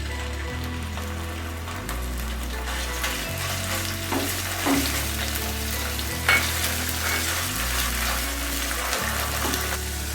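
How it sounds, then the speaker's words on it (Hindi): A garlic and ginger paste sizzles and crackles steadily in a hot pan, with occasional stirring scrapes over a continuous low hum. "उससे पहले हम लहसुन और अदरक का पेस्ट जो है वो भी इसमें फ्राई करेंगे"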